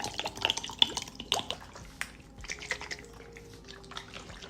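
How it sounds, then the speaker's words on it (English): Okra in water sloshing and clattering inside a container as it is shaken, quick irregular splashes and knocks, fairly faint and close. "So I'm gonna add some more water here and then shake it up."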